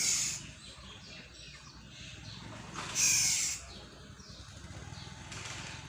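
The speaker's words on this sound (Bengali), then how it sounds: "কি সুন্দর হলুদ পাখি। আমাকে দেখে সব রাগান্বিত, তাই এরকম শব্দ করছে।" A yellow bird gives two short, harsh, agitated calls a few seconds apart, set against a soft, constant outdoor background.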